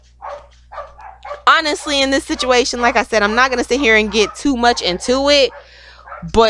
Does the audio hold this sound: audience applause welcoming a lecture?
no